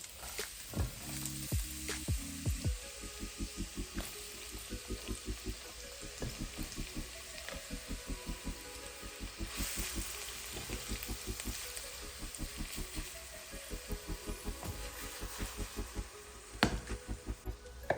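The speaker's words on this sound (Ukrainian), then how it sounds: "в розігріту сковорідку я додаю олії і буду смажити цибульку до злегка золотавого кольору" Steady sizzling of onions frying in oil in a preheated frying pan, a close crackle running throughout with a soft pulsing rhythm and no one speaking.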